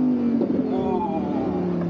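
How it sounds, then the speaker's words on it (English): A Lamborghini Huracan Evo's 5.2-litre naturally aspirated V10 downshifts, its engine note blipping and rising in pitch then settling into a steady loud drone, heard close from inside the car. "downshift sounds so sweet"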